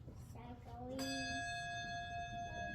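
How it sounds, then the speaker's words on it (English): A tuned bronze handbell strikes with a bright, sustained ring, its pure overtones lingering and slowly decaying after softer tones and murmuring in the background. "Those bells are tuned as if they are in a bell tower."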